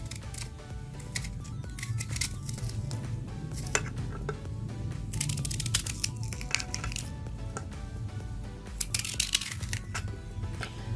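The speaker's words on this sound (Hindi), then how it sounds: "प्याज को कटिंग करने के एक तो ये तरीका है कि आपने इसको रोल रोल इस तरीके से कटिंग करना है" Knife repeatedly chopping an onion finely on a cutting board, a steady run of close, crisp cuts and taps with irregular louder clicks throughout.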